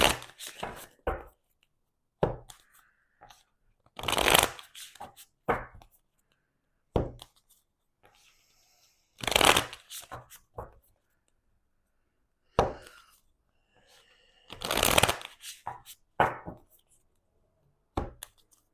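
Tarot cards shuffled by hand in a series of short, sharp riffling and tapping bursts separated by quiet gaps, close and fairly loud, with no talk.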